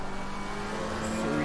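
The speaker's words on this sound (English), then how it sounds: "So just listen to the engine of the McLaren." McLaren race car engine in a racing video game at Kyalami, revving steadily at a sustained pitch, loud and continuous with no talk over it.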